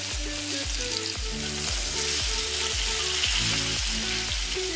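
Potato chips frying in hot oil with turmeric make a steady close sizzle and crackle, with a low rhythmic scraping as they are stirred through the pan.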